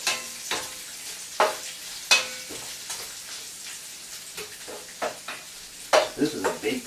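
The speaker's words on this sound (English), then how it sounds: "So stir this up a little bit so it's not sticking." A big pan of paella is stirred over the heat, with repeated scraping strokes of a utensil against the metal over a constant sizzle, close and irregular in rhythm.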